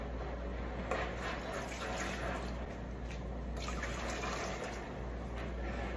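About 500 ml of water runs steadily into a cooking pot to make rabokki, a soft continuous gush and trickle heard alone at low level for several seconds.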